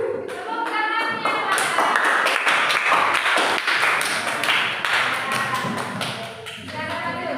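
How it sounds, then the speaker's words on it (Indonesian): Audience applause at an event, a dense patter of many hands clapping close by for several seconds, with scattered voices and thuds mixed in. "Tepuk tangannya."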